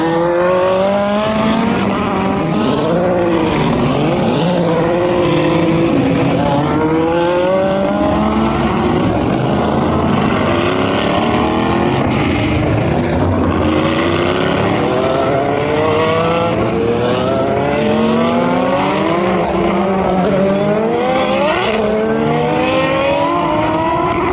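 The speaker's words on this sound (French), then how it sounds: "V12. Une accélération diabolique." Loud V12 race car engines at the 24 Hours of Le Mans scream and rev continuously, pitch rising and falling as cars accelerate and shift gears, several passing in a constant roaring stream.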